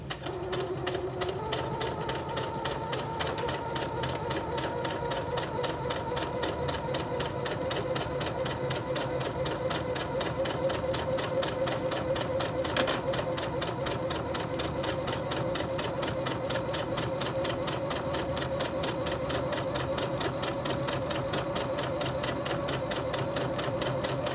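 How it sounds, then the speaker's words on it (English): A sewing machine stitches plastic with a steady, fast, continuous mechanical whir, close and even throughout, with one brief louder knock midway. "Put my foot back down again, and then continue sewing."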